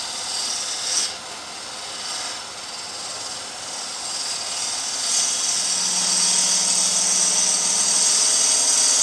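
Wood lathe gouge cutting a wooden platter, a steady raspy, hissing scrape that runs continuously and grows slightly louder toward the end, with a faint low hum from the spinning lathe underneath.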